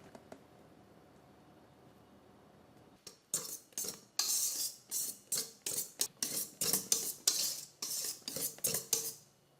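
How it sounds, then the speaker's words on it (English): A spatula folds pandan layered-cake batter into whipped egg whites in a bowl, making a quick run of close, crisp scraping clicks against the bowl after a few seconds of near silence. "I'm going to use a spatula to fold it in gently, just to make sure the base is well mixed in."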